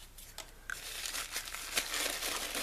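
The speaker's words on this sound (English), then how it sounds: "I actually unwrapped it easily that time" A crinkly snack wrapper is unwrapped up close, with soft crackling and crumpling in a continuous run of small crisp bursts and a faint tearing quality, quiet and without talk.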